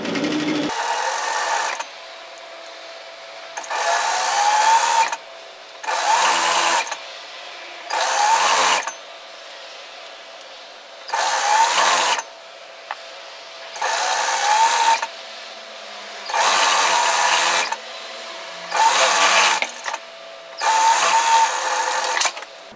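A domestic sewing machine stitches a sleeve hem on a flutter-sleeve top in repeated bursts of steady whirring, about nine runs of a few seconds each, separated by short pauses, close and clear with no talking.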